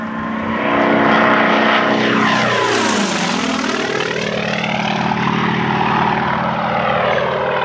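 A Sukhoi Su-26 aerobatic propeller plane sweeps past at an aerobatic display, its engine swelling loud on approach, then dropping sharply in pitch as it passes close by and droning away into the distance.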